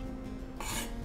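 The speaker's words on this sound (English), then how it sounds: "I'm just gonna just grate this into here." Fresh ginger, about half an inch, rasped over a grater into a bowl for coleslaw in a kitchen: a single close, brief scraping burst in the second half after a quiet start.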